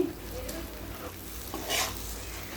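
Crushed fried shrimp go into a hot pan for a taro stem curry, giving a steady sizzle with brief stirring scrapes and a short louder hiss near the end.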